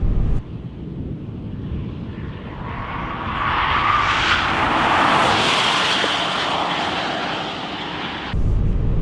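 Tesla Model 3 Dual Motor accelerating at wide open throttle on a race track, a steady rising electric whine with heavy wind rush that swells through the middle and holds loud, no talk.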